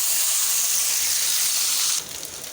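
Cooked rice is tipped into a pan of fried onions and sizzles in a loud, close, hissing burst that holds steady for about two seconds, then drops to a softer crackle.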